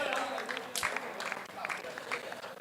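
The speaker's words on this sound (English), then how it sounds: "a huge round of applause for the runners-up, Qusais Tigers" A crowd at an indoor cricket league final applauds the runners-up, Qusais Tigers: lively clapping at moderate distance, with distinct hand claps popping out of a continuous wash, while voices chatter and talk underneath.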